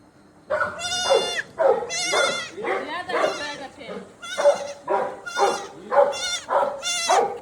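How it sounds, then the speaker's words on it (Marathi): A billy goat in a village bleats loudly and close, about eight wavering cries in quick succession, each a strong quavering call with brief gaps between. "बोकाड ओरडत ओरडत ओरडत गेला"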